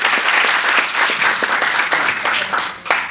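A crowd at a marketing competition info day gives a loud, dense burst of applause for a guest speaker, steady throughout with scattered sharper claps.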